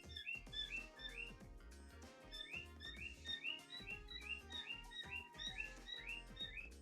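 Birds chirp and whistle outdoors in a steady chorus of short, repeated high calls, loud and close against a low background bed, with no talking.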